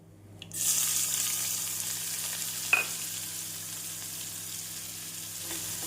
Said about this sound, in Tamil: எண்ணெய் சூடானதும் 1 ஸ்பூன் கடுகு, 1 ஸ்பூன் உளுந்து, கடுகு உளுந்து நன்றாக பொரியவும்